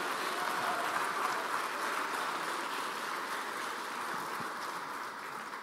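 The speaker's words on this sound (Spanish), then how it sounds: "Dale un fuerte aplauso." Church congregation applauding, a steady, even wash of clapping that fills the whole stretch at a distance, fairly faint and without talk.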